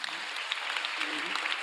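A conference audience applauds the interpreters in a steady, dense wash of clapping that holds at an even level for a short stretch, with faint murmuring of voices underneath.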